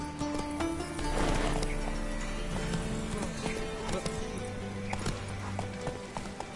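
Roach, Geralt's horse in The Witcher game, gallops with quick clip-clopping hooves over a busy bed of game music and ambient sound, the steady beat running through the whole stretch.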